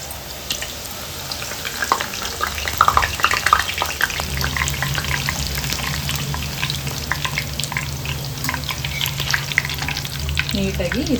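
Wheat flour puris deep-frying in hot oil, a loud continuous close sizzle with crackling bursts and occasional stirring or turning sounds, heard alone without talk for about eleven seconds.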